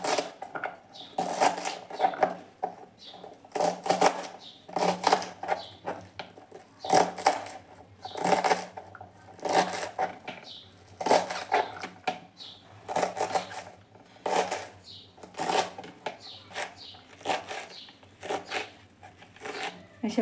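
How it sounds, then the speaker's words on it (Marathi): A knife chops tender vegetable stalks on a board in a home kitchen, giving steady, close, crisp taps in short rhythmic runs with brief pauses, while someone talks quietly over it. "आता आपण भाजी चिरून घेऊया."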